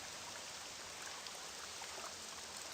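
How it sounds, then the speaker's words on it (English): Rain falling in the game Morrowind, a steady, soft hiss of pattering drops that stays even throughout with no voices. "We don't want the rain."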